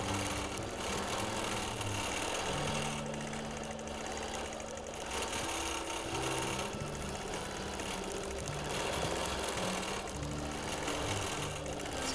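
A sewing machine runs steadily through free motion quilting in a mod boxes pattern, a continuous mechanical hum that stays level and close for the whole stretch.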